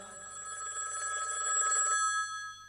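A telephone rings with a short, bright electronic trill, moderately faint and heard alone for a couple of seconds before fading.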